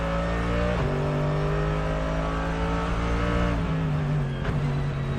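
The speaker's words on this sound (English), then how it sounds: "Just incredible racing between these 3 drivers as Schiller has not given up and continues t" Race cars at the Nürburgring 24 Hours roar past loudly and close, engines revving with shifting pitch as they accelerate through the rain.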